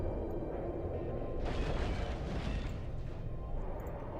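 Space combat in Eve Online, with bombs and missiles striking a ship as a dense, rumbling roar and a swelling burst of blast noise midway.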